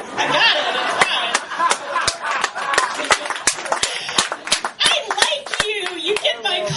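Scattered, sharp hand claps from a comedy club audience, irregular and distinct, mixed with chatter, laughter and a voice talking throughout.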